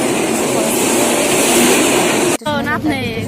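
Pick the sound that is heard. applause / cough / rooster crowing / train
train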